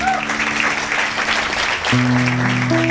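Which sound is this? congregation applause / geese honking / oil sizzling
congregation applause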